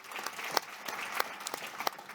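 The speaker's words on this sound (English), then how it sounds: "Round of applause." A conference audience gives a round of applause, a dense, steady clatter of many hands clapping together, fairly close and without any talk over it.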